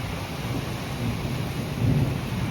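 Light rain starts falling over a Punjab village with wind, giving a steady, soft, even hiss with no voices.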